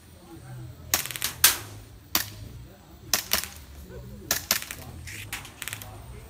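Sharp BB gun shots pop in quick clusters at an outdoor BB gun field in Nakhon Sawan, Thailand. They come in irregular bursts of two or three over a low background rumble.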